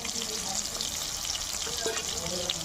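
Whole green chillies fry with chopped tomato in a pan for a soybean and chana dal dish, a continuous moderate sizzle with soft stirring scrapes throughout.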